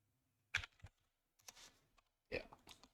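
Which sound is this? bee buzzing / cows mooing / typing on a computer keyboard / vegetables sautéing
typing on a computer keyboard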